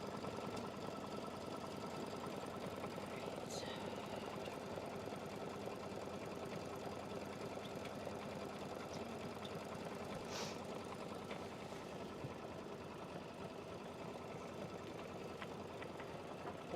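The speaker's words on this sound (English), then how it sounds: "it's going to just do a complete squaring stitch, and it's going to go right on top of that first stitch" An embroidery sewing machine stitches a square box around a zipper held in the hoop, a continuous even mechanical hum with faint clicks running throughout at moderate volume.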